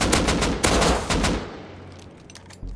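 Rapid bursts of automatic gunfire in the survival video game Rust crack loudly at first, then thin into sparser, more distant shots as the firing tails off.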